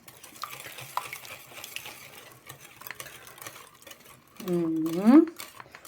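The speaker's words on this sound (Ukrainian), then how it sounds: "Сюди додаємо 200 грамів розтопленого масла. Все перемішуємо гарно." Melted butter being stirred into a coconut cookie mixture in a bowl, heard as soft, scattered scraping strokes, then a short burst of louder, faster mixing near the end, up close.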